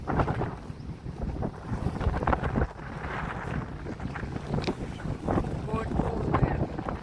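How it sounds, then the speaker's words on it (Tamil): A boat motors across open sea, its engine and hull noise mixed with heavy wind buffeting the microphone while people talk over it. "போட் போகுது"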